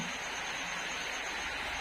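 Heavy rain pours steadily onto a tiled house roof at night, a continuous, even hiss with no breaks.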